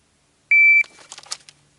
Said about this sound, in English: The beep is a shot from the bad guy.